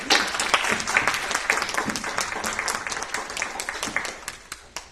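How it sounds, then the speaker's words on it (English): Applause at a village board meeting, a room of people clapping in a dense burst that thins to scattered claps and fades out, heard at moderate distance. "Let's give a round of applause to the Maywood Park District."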